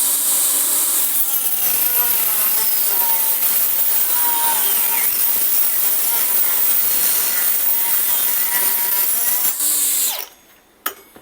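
Stromo AGA 150 mini cordless angle grinder cutting OSB board, a loud close whining grind held steadily for about ten seconds before spinning down, followed by a brief knock.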